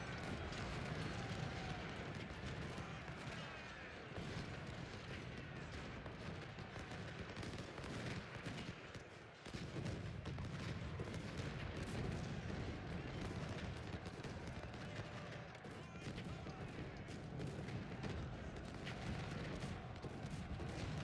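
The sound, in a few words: cannon volley in Ultimate General: Civil War video game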